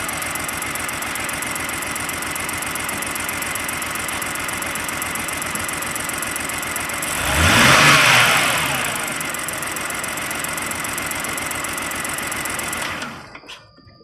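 A BMW 328i xDrive SULEV idles steadily after its loose fuel injector connectors are held down to cure misfires. The engine hums with an even, close whir and a brief louder swell midway, then stops near the end.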